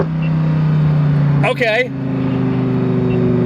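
Lamborghini engine pulling hard from inside the cabin, a loud steady low drone with a rising whine that drops in pitch after a brief shift, and a short spoken word partway through.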